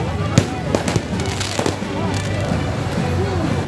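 Firecrackers set off by youths during a street brawl in Indonesia pop in a quick irregular series of sharp bangs, heard beneath a news narrator's voice and crowd noise.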